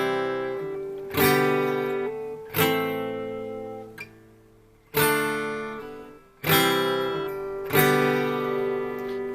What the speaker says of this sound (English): if I was to play now those chords in the most basic way, it would be sound like this